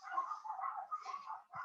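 Neighbours' dogs barking in the distance, a run of faint, muffled barks and yips that goes on almost without a break, with no talking.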